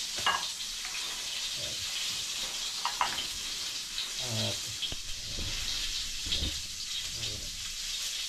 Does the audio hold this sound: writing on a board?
no